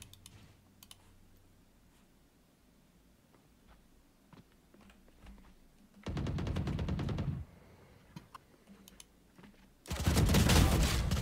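Rifle fire in the shooter game Valorant, two loud sustained bursts of rapid automatic shots over soft keyboard and mouse clicking.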